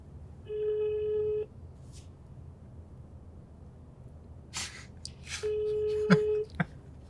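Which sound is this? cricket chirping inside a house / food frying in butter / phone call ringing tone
phone call ringing tone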